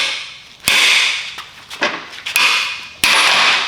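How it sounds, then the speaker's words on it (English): Hammer striking the end of a seized driveshaft yoke during a Datsun restoration, a few sharp metallic cracks spaced apart, close and loud, with no voices. "Hit the end with a hammer."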